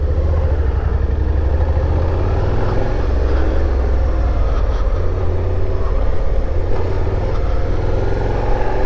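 A Suzuki SV650 motorcycle ridden on a highway at night, its engine a steady low drone mixed with loud wind rush that holds even and continuous throughout.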